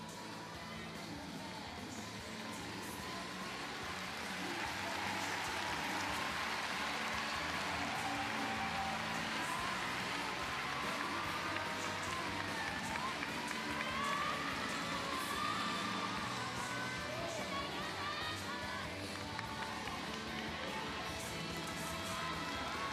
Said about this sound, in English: You can hear the audience in the background, lots of